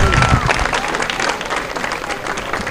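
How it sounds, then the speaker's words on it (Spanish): Crowd applause for dancers at an Afro-Colombian Day final in Ibagué, Tolima, a dense burst of clapping that stays steady and fairly loud throughout with cheering mixed in. "Mary, los aplausos para los muchachos"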